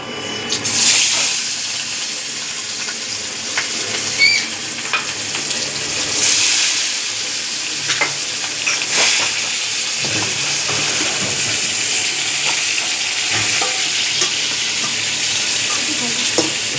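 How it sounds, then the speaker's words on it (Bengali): Fish frying in hot oil gives a strong, steady sizzle with occasional sharper pops and splutters, close by and continuous throughout. "এখানে মাছ ভাজছি।"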